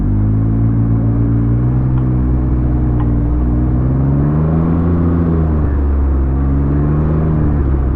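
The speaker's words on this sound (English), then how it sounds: "What is this car doing?" A car engine hums in a steady, close, low rumble as it drives, the pitch rising and falling gently with speed, heard from inside with no talking.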